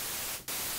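Unpitched white noise from a synthesizer oscillator hisses loudly and steadily across the whole range, briefly dipping and thinning for a moment before returning at full level.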